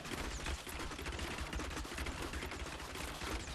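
Rapid Fire skill of the Demon Hunter in Diablo 3: Reaper of Souls, a dense, continuous rattle of rapid gunfire-like shots that stays loud and steady throughout with no pauses.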